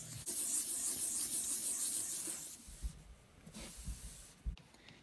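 Wet sanding of a car headlight with 1500 grit sandpaper, a steady close rasping hiss for a couple of seconds, then quieter scattered rubbing strokes and soft bumps.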